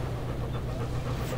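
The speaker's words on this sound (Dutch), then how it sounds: "Dat is een hond." A dog pants steadily at close range, a breathy, continuous rhythm over a low rumbling background, with no talk.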